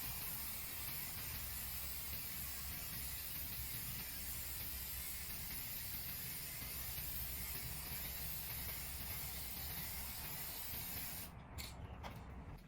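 Easy Vinyl Sealer sprays onto freshly stained mid-century Broyhill Brasilia wood furniture, producing a loud, continuous hiss from a spray gun that runs almost unbroken before briefly cutting out at the end, with no talk.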